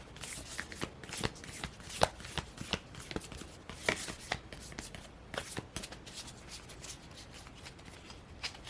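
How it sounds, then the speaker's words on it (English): A deck of tarot cards is shuffled repeatedly at close range, crisp riffling bursts separated by short pauses, with no voices. "This deck's really hard to shuffle, but I'm going to shuffle it 3 times"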